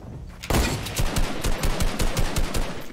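Rapid automatic gunfire in the video game Fortnite, a fast burst of sharp repeated shots starting abruptly after a brief quiet moment and continuing steadily, loud and close with no talking.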